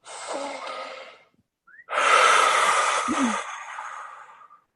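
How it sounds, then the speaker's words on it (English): A deep breath drawn in slowly, close and breathy with a soft hiss lasting over a second, a short pause with a faint catch, then a longer, louder airy exhale. No speech. "And now take a nice deep breath in."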